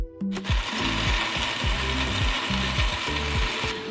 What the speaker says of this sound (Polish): Rzucamy wszystko do blendera.